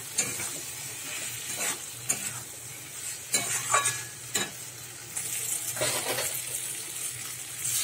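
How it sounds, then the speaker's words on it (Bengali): Fried pointed gourd (potol) being stirred into shrimp paste and spices in a hot pan: a constant soft sizzle broken by several scraping strokes of a spatula and clinks against the pan, close up, with no talking. "এবারে ভেজে রাখা পটলটাও দিয়ে দিলাম, দিয়ে একটু কষিয়ে নেব।"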